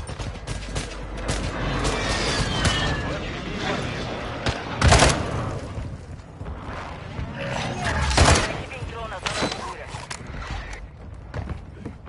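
Gunfire from a shooter video game comes in scattered shots, with two louder bursts near the middle and later, while players talk over the action.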